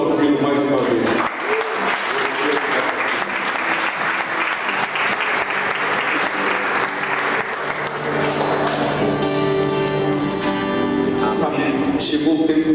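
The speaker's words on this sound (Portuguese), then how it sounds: "Vamos aplaudi-lo mais uma vez." A church congregation breaks into sustained, dense applause that carries on for several seconds before thinning out, with a voice speaking over the clapping toward the end.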